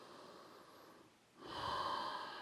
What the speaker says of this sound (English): keep the rhythm of Ujjayi breathing